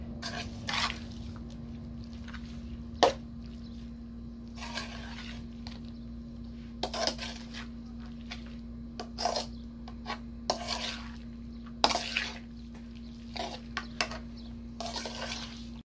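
Red lobia (kidney bean) chaat being stirred in a bowl, giving soft rasping and scraping strokes in irregular bursts with occasional sharper clinks of a spoon, heard close over a steady low electrical hum.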